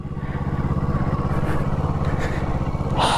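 A Kawasaki Eliminator 500 motorcycle engine idles and rumbles steadily up close as it makes a slow U-turn in a parking lot, with a brief rise in revs near the end.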